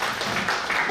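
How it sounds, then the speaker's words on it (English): Audience applause at a 70th birthday celebration, a dense wash of clapping filling the short moment, close and loud with no talking. "she deserves an applause for that"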